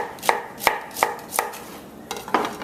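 A knife chops okra on a cutting board with six crisp, evenly spaced knocks, close and clear with no talking.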